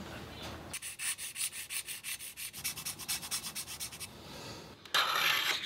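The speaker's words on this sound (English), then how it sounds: "the next step was to grind in the edge bevel" Hand-grinding the edge bevel of a knife of aluminum bronze forged from copper wire, using an improvised jig instead of a belt grinder: steady rhythmic rasping strokes, about two per second, close and fairly loud, with no talking.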